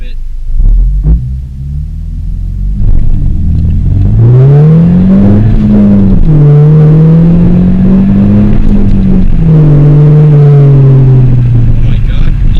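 A 10th gen Honda Civic Si with a Hasport rear motor mount launches from 2,500 RPM. The engine note climbs and surges loud and close under rumbling road noise, then settles into a steady drone as the car pulls away.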